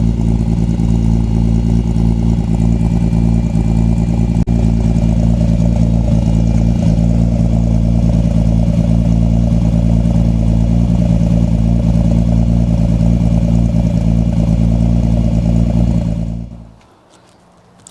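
A Datsun 280Z engine idles steadily with a deep, loud exhaust note and a slight miss, droning continuously up close before cutting off abruptly near the end.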